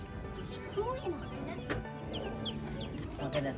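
Chickens cluck with short, scattered calls from nearby, mixed in among people talking.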